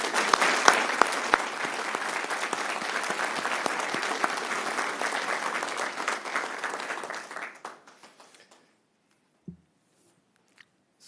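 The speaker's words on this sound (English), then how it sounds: "A round of applause for the officers." A council chamber audience applauds officers at a city council meeting with loud, sustained clapping for about seven seconds before it trails off into near silence, leaving only a faint stray sound or two.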